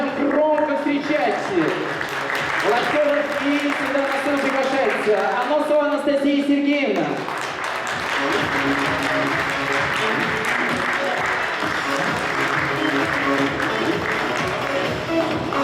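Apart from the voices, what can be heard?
applause for volunteers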